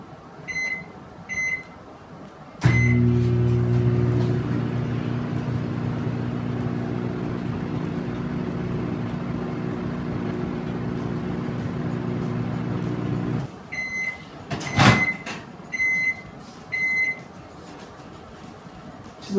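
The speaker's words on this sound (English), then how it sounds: "Next, we're going to microwave it for 30 seconds." Beeps from a microwave oven's keypad lead into a steady humming drone as it runs for about ten seconds, then it stops and several more beeps and clicks follow.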